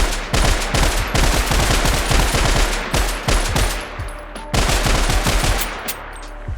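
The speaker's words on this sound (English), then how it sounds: "I also ended up changing the visual effects and the sound effects of the M4" Rapid bursts of M4A1 rifle fire from a Minecraft Bedrock weapons addon, loud and punchy shots in quick automatic strings with a short pause between volleys.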